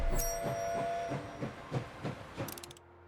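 A train in the video game Last Train Home pulls forward with a steady, rhythmic clickety-clack of wheels over rail joints and faint whistle-like tones, before a short rattle near the end and a drop to quiet.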